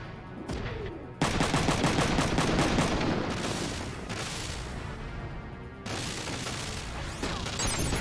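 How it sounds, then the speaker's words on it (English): Machine gun fire from the video game Front Mission 3, loud rapid bursts of repeated shots with brief pauses between volleys and a crashing impact near the end. "Let's use a machine gun here."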